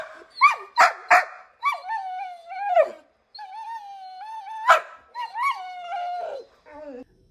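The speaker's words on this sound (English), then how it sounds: "She's a talkative dog." A vocal dog at close range gives sharp barks mixed with drawn-out, wavering howls and whining yips in irregular bursts, with short pauses between.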